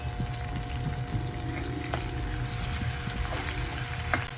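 Tomatoes fry in a pan on a portable butane stove with a steady, moderate sizzle, a faint hum and a few light clicks from the utensils.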